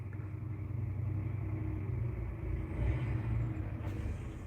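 Semi truck, a 680, backing up nearby: a steady low diesel rumble that holds fairly even and swells slightly near the end, with no talking.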